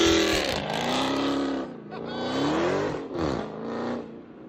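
A supercharged 6.2L HEMI V8 in a 2021 Dodge Challenger Hellcat roars through its exhaust, loud and close, with revving pitch swells and a brief dip before rising again.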